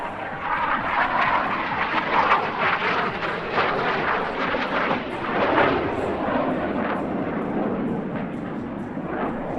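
A Czech L-39 Alca military jet flying a solo airshow display with flares, a loud rough jet roar that surges and fades in pulses as it passes, with crackling bursts through the noise.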